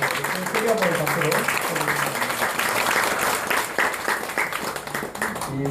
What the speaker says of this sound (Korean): 크게 한번 박수로